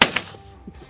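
A single sharp gunshot cracks at a pop can target during a hunting shooting drill, loud and close, followed by a brief echo and a faint thud as it decays into quiet.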